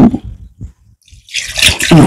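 Water poured into a pan of prawn masala, a short splashing gush that rises after a few soft clinks and quiet knocks, close and fairly loud, with no talk over it.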